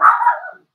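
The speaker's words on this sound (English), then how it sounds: "My dog was barking." A dog gives one loud, short bark close by, cutting off sharply into silence.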